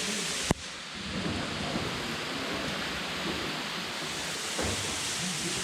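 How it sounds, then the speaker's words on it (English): Water dripping and pattering like heavy rain inside Mammoth Cave after much rainfall, a steady dense hiss of drops with a sharp knock near the start, no talking. "All the rain we've got, I mean, it's like raining in here right now"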